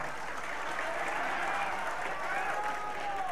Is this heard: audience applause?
yes